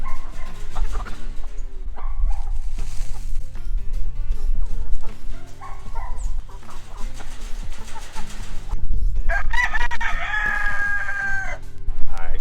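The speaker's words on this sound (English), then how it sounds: "Much like the bees, the chickens pull their weight." On a semi-rural homestead, chickens cluck and a rooster crows loudly several times, with dogs barking among the flock noise throughout.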